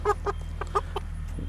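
Chickens clucking around an old water and food tank in a backyard coop, a flock of hens with a rooster; several short, bright clucks come in quick bursts close by over a steady low hum, with no talking.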